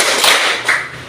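A class of pupils clapping on command in a classroom, a couple of loud, close bursts of many hands striking together, heard alone without talk.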